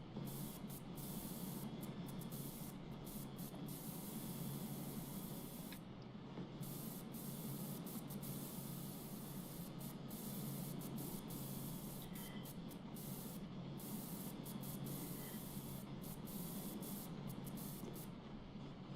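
A power washer in PowerWash Simulator 2 sprays in a continuous hissing rush, steady and close, broken by brief cutoffs as the trigger releases, with no talking.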